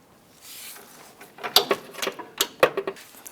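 Ratchet clicks while a knock sensor bolt is tightened on a 2004-2012 Chevy Colorado engine, coming as close, sharp bursts of ratcheting at a workbench-quiet level with short pauses between strokes.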